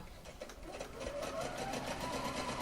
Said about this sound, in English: I've now sewn my two parallel lines, and they're starting at the exact same point.